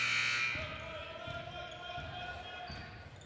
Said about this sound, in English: The buzzer sounded for the substitution to come in.